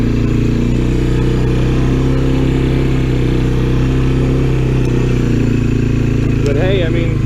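A Honda Fourtrax 300 ATV engine drones steadily at close range, plowing snow, with a constant low rumble that never breaks and a voice talking over it.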